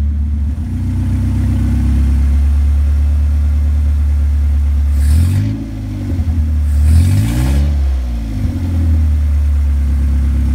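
Project car engine idling on a lawnmower carburetor, a steady low loud rumble with two brief blips of revving midway, heard up close with no talk.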